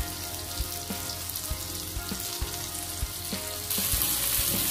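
Bombil fish (Bombay duck) crisp-frying in oil in a pan over a medium gas flame, a steady close sizzle with light intermittent taps and crackles.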